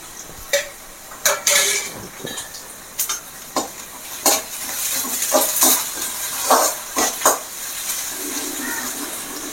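Onion and curry leaves sauté in a pan for kovakkai (ivy gourd) varuval: a soft background sizzle broken by a dozen or so sharp, irregular stirring scrapes and clacks of a spatula against the pan.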